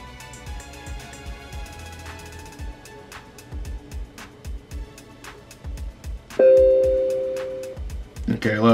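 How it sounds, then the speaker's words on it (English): An Instabox W33 wireless charging alarm clock radio gives one clear Bluetooth pairing ding that rings and slowly fades. A person talks before and after it. "So that little ding means it's now synced to my phone."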